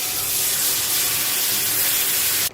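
Milk hits flour that has been roasting in a pan for five minutes, setting off a loud, steady sizzling hiss that runs unbroken and then cuts off abruptly at the end.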